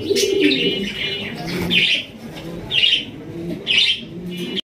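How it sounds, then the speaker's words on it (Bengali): Almond Jacobin pigeons coo in soft, throaty rolling bursts that repeat every second or so, close and fairly loud, with bright chirps rising over a constant low murmur of other birds. "এটা অ্যালমন্ড, অ্যালমন্ড জ্যাকোবিন।"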